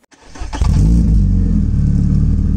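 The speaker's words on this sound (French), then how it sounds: "au volant de cette Clio 2 RS phase 3, la citadine la plus puissante de sa génération" Renault Clio 2 RS phase 3 hatchback's engine catching and rising into a loud, sustained rev, with the deep throaty roar holding steady close to the microphone, no talk.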